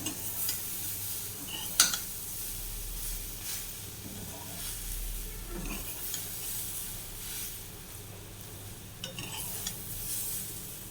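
Kothimbir vadi ingredients are stirred in a pan over heat, a soft sizzle running under intermittent scraping and stirring, with a couple of sharper clinks of a utensil against the pan.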